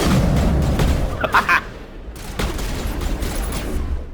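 Gunfire in the Mass Effect video game, a dense fusillade of rapid shots and booms in a continuous loud combat mix with brief gaps.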